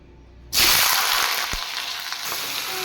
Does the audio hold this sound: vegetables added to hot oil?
yes